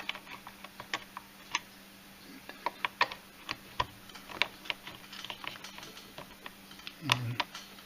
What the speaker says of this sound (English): plug the tube back in, getting it oriented right